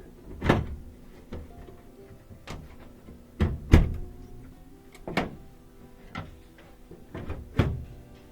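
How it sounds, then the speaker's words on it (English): Several sharp metallic clunks and bumps at irregular intervals as a Trane XL 80 furnace door panel is handled and fitted into place, close by, with faint rattles between. "We're going to go ahead and put this door back on so that it activates the door switch."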